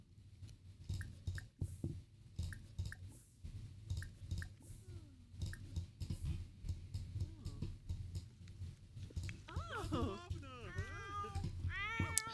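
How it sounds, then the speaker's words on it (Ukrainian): A Sims 4 pet cat meows several times in plaintive, rising calls, fairly quiet behind a low game hum, with a person talking nearby. "Що ти м'явкаєш?"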